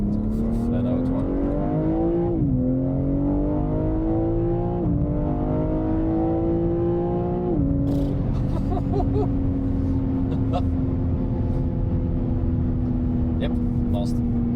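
A BMW M3 Competition xDrive Touring accelerates flat out, its engine note climbing loudly through several gear changes, each shift dropping the pitch before it rises again, then settling into a steady high drone with faint clicks above.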